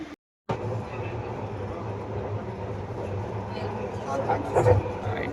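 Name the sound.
Hyderabad metro train riding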